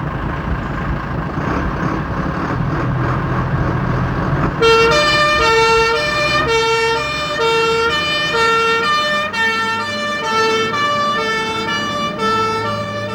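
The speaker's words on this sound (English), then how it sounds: "the most commonly used fire and rescue vehicle, the pump engine" A fire and rescue pump engine sounds its siren, starting abruptly after a few seconds of rumbling engine and road noise and then cycling loudly and steadily through rising and falling wail tones, close by.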